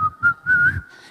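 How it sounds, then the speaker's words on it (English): Someone whistles a short run of clear, close notes in a few quick bursts, one held slightly longer, with no talk. "whistle while I work."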